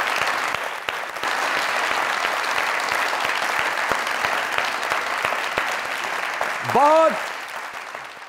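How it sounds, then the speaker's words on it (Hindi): Studio audience applause on a comedy talk show, sustained dense clapping that fills most of the stretch before fading, with a brief spoken word and a short rising musical flourish near the end. "जोरदार तालियां।"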